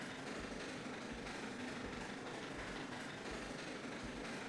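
A train runs in the video game Railroads Online, a small locomotive hauling freight wagons with a steady rumble and a regular clickety-clack of wheels on rail joints, quiet and continuous with no talk.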